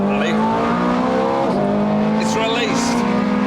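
A 510-horsepower Ferrari 430 Scuderia accelerates hard out of a bend, its loud engine note climbing through gears with tire noise, heard close with someone talking over it.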